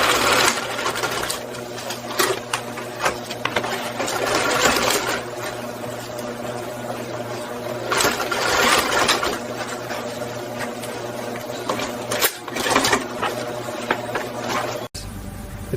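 An industrial sewing machine stitches seams on a crocodile leather jacket in a factory, whirring loudly and close in rhythmic runs that pause briefly before starting again.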